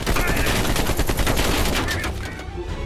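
Rapid bursts of gunfire in Call of Duty: Black Ops Cold War, dense and loud, crackling continuously with no pause.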